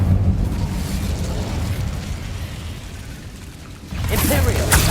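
An Incendio fire spell cast in the video game Hogwarts Legacy: a steady, loud roaring rumble that swells into a brighter, fuller burst of flame near the end.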